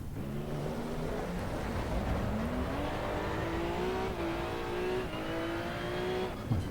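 A race car in the Assetto Corsa Evo racing game roars continuously at close range, its engine pitch climbing through the gears with steady revving and brief dips at shifts, loud and unbroken with no talking.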